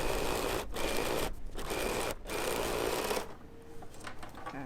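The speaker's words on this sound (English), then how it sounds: "what is nice of the Bernina, you can sew off the fabric without having a bundle in your bobbin case" A Bernina sewing machine runs in quick bursts of rapid stitching off the end of fabric, with short pauses between runs and a quieter tail at the end.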